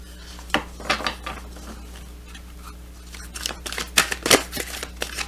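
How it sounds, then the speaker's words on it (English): A deck of tarot cards being shuffled by hand, heard as soft papery riffles and scraping bursts that come in uneven clusters, sparse early on and denser near the end, close by and fairly quiet with no talking. "you see me shuffling here"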